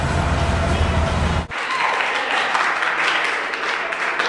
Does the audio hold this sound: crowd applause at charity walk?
yes